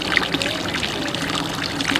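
A steady, close stream of tap water runs and splashes at a fruit stand in a Prague market, where the water is provided for washing fruit.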